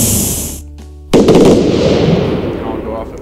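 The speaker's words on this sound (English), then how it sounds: "I have all of these fireworks set up to this one button" Roblox Lumber Tycoon 2 fireworks wired to a single button all go off together with a sudden loud burst, a crackling cluster of pops that slowly decays, preceded by brief game sounds.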